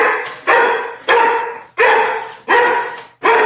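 A dog barks loudly and close by in a steady run of about six sharp barks, each trailing off before the next.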